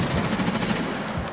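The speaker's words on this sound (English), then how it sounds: "Shotgun, man." Shotgun blasts in the Escape from Tarkov video game, a rapid run of loud, close gunfire reports filling the short burst.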